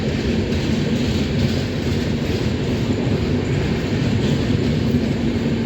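The Hemkunt Express passenger train running between Jammu Tawi and Howrah near Laksar Junction, a steady loud rumble of wheels on rails, continuous and close with no talking.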